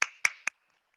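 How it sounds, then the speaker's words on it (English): Three crisp, separate hand claps in quick succession for a graduating class, close and sharp, each dying away quickly before silence. "Let's have a big clap for the class of"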